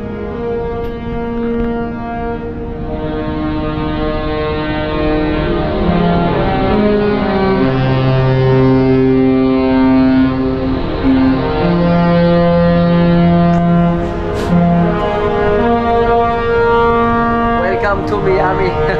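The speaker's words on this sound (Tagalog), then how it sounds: "Tumunog na yung mga boss, busina ng Princess Cruises." A deep, loud Princess Cruises ship horn blasts in long sustained tones at Port Everglades, its low notes shifting pitch and holding for many seconds, echoing over the surroundings.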